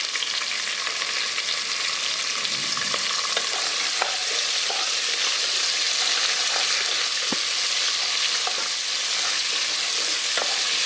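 Chopped large onion and five or six garlic cloves fry in a hot pan, giving a continuous close sizzle broken by occasional clicks of stirring, with no voices.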